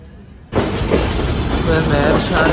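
Pak Business Express train cuts in suddenly and rolls along the rails, a loud continuous rumble with rhythmic clattering and hiss heard from inside a carriage.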